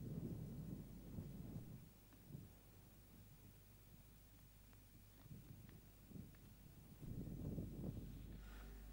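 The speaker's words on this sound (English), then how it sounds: "Well, the rain has come." Thunder rolls in low, rumbling bursts at the start and near the end of a rain shower, with faint steady rain in between and no voices.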